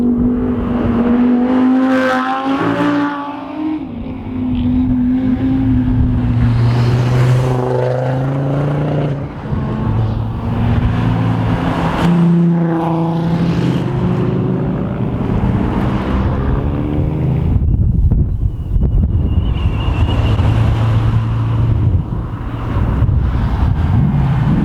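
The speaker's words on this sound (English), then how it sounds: "Those R8 sounded very nice indeed." Audi R8 supercars climb the Black Mountain Pass, engines rising and falling as they pass close by one after another, loud revving sweeps with wind buffeting on the microphone.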